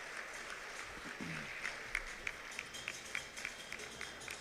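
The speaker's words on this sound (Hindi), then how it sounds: "जब तक ये उपक्रम चले तालियां बराबर बजती रहें।" At a bar association gathering welcoming the Chief Justice in Hansi, the crowd claps on and on, quiet and distant, with steady rhythmic claps and a brief murmur of voice early on.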